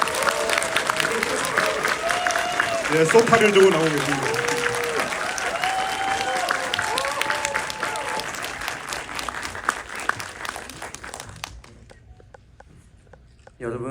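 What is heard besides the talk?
audience applause welcoming director Makoto Shinkai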